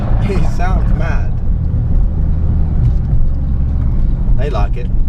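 A 430bhp Ford Focus RS with wide arches and a fully forged engine rumbles deep and steady through its exhaust, close by, beneath someone talking over it.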